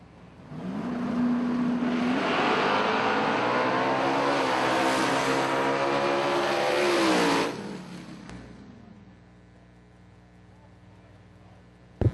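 Applied Nitrous Racecraft drag race car entering the water box for a burnout, engine roaring loud and sustained with rising revs for several seconds, then cutting off to quiet.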